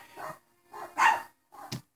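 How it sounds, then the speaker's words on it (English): A dog barks three or four times in the background, distinct, evenly spaced barks of moderate loudness with nothing else around them. "Sorry for the dog barking in the background."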